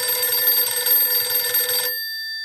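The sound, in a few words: telephone ringing during a phone call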